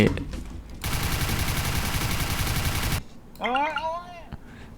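Rapid automatic gunfire in the shooter game CS:GO, a loud sustained burst of about two seconds that cuts off abruptly, followed by an excited voice.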